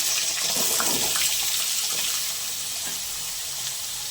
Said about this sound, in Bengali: তেলে আলুগুলো দিয়ে দেবো